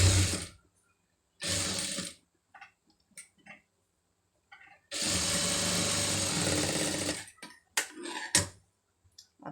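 Sewing machine stitching a folded star neck design on a garment, heard in several bursts of rapid mechanical whirring, the longest lasting about three seconds, with brief clicks and handling noises between the runs.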